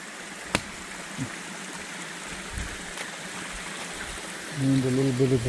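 A brook flows along a hiking trail in Connecticut with a steady, soft rushing babble, heard from a short distance, broken by a few faint knocks and a brief burst of speech near the end.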